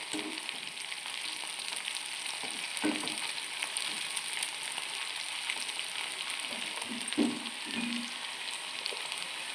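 Close, steady sizzling of cauliflower frying in oil in a pan, with a few soft stirring scrapes; no voices.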